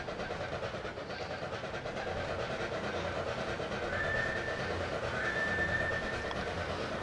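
An East Broad Top narrow gauge train runs close by between Rockhill and Mount Union, giving a steady rumble and clatter of wheels on rail, with a faint whistle-like tone threading through partway.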